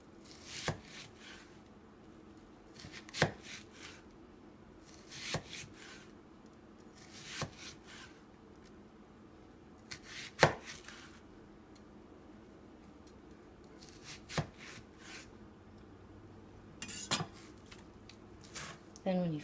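A kitchen knife slices through an onion on a cutting board to make a blooming onion, with about eight crisp, separate chops spaced a couple of seconds apart while a person talks.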